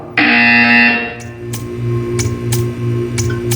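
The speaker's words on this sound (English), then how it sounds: "You will hear a buzzer." A loud harsh electronic buzzer sounds in the Portal 2 video game for about a second, followed by a low hum and a series of faint rhythmic ticks and clicks.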